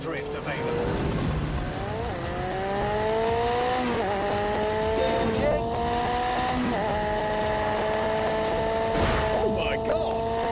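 A car drifting in The Grand Tour video game on PS4, its engine droning steadily with rising and falling pitch and tyres squealing through the slides, loud and continuous with a voice occasionally over it.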